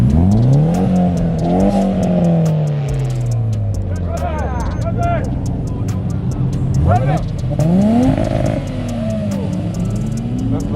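A modified Nissan G35 at a car show revs its engine repeatedly, with rising and falling roars close by, while people shout and talk over it.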